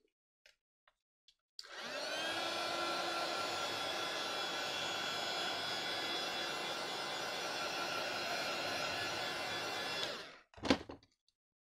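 A hair dryer blasts steadily for about eight seconds to dry varnish on an art-journal page, a loud close whoosh that starts abruptly and cuts off, followed by a brief clatter as it is set down.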